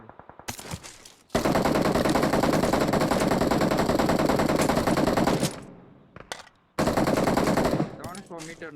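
Gunfire in the mobile battle-royale game BGMI: a long, loud, rapid automatic burst runs for several seconds, stops, then a second sustained burst follows, with scattered single shots before and after.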